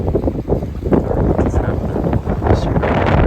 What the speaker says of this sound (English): it's going to be a very windy day today